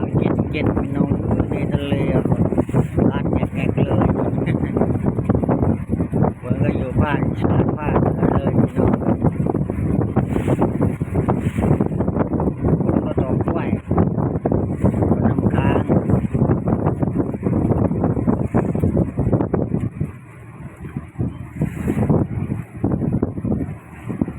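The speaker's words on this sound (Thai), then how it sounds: "ลมหนาวบุกมา" Cold winter wind buffeting the microphone outdoors, a loud continuous roaring gust that holds steady throughout and eases slightly near the end, with a voice speaking over it.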